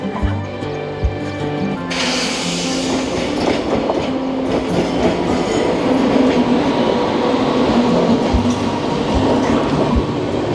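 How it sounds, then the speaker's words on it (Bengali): Saryu Yamuna Express, running from Jaynagar to Amritsar, passing through a station at sunrise, with a loud, sustained rumble that steps up sharply after a couple of seconds, rhythmic wheel clatter and faint squeal close by. "জয়নগর থেকে অমৃতসর যাচ্ছে সরাইউ যমুনা এক্সপ্রেস।"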